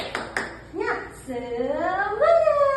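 Two sharp hand claps near the start, followed by children's voices calling out together in a rising, sustained classroom chant.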